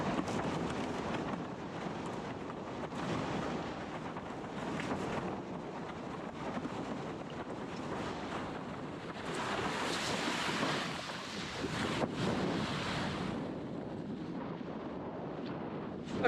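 Strong wind roars across the microphone at the beach during windsurfing, a continuous loud buffeting rush mixed with water and surf, with no voices.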